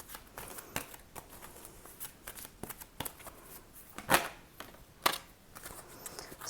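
A tarot card is drawn from the deck during a Virgo reading, giving soft papery shuffles and slides with two sharper card snaps standing out near the end, close and fairly quiet, with no talk.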